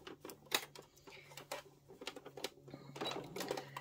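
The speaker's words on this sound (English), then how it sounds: "let's go over to the sewing machine and top stitch this down." A sewing machine top stitches fabric for a flower petal bowl cozy, giving a quiet, close mechanical whirr with rapid needle clatter in short runs and brief stops.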